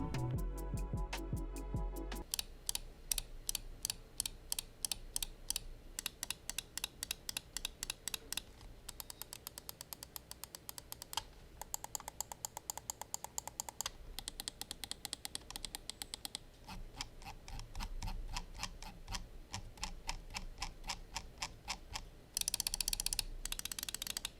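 Rapid, crisp clicking of Razer Viper V2 Pro mouse buttons with Gen 3 optical switches, first in fast bursts, then steady repeated clicks, close and dry with no talking.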